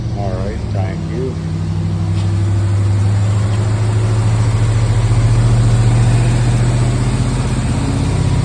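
A car with a Hemi engine idles while warming up, a steady low rumble that builds slightly and holds, while people talk briefly at the start.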